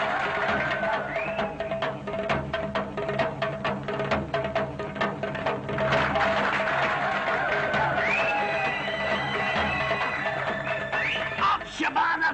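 Dense, continuous applause for a girl's rope-walking stunt in a cartoon, steady throughout with a faint tonal backdrop beneath the clapping.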